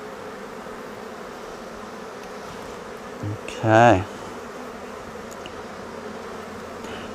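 Honeybees buzz as a hive is split and shaken over a box, a dense steady hum with one brief louder burst near the middle. A voice speaks briefly.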